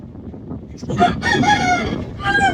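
A rooster crows nearby, a loud drawn-out call followed by a shorter second burst, with some low background noise.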